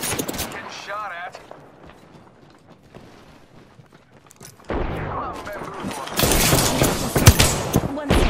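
Gunfire in a video game: faint shots at first, then heavy sustained volleys of rapid automatic fire grow louder in the second half, with voice chat underneath.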